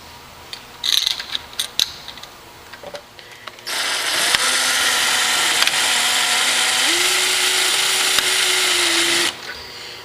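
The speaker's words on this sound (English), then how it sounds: "It's ready to be screwed in. Simply just screw it in." A power drill drives a screw into a cabinet knob handle, whirring steadily for about five seconds with its pitch rising partway through, after a few light clicks and taps of handling the hardware.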